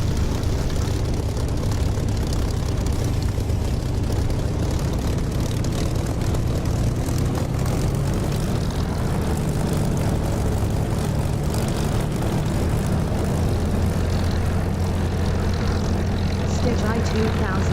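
Propeller aircraft engine at steady taxiing power, around 1300 to 1500 RPM, in the DCS flight simulator, a loud continuous low drone with propeller throb that holds constant throughout.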